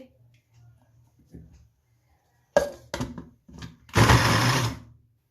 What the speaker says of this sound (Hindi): तो अब मैं इसको ग्राइंड करने लगी हूँ। साथ ही मैं 2 अदद ब्रेड पीस डालने लगी हूँ, ये भी साथ ही ग्राइंड हो जाएंगे।